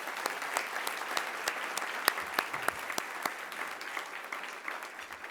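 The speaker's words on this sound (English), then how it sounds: "Let's give Mrs. Rice another round of applause." Sustained audience applause at an awards ceremony, dense steady clapping with a few sharper claps standing out, no voices over it.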